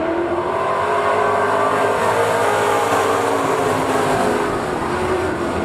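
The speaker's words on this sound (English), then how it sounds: "Four down, four laps remaining as we come to green with Tim Dan." Sport compact race cars accelerate in a pack at Park Jefferson Speedway, a loud, steady engine roar with rising revs and no break, up close to the track.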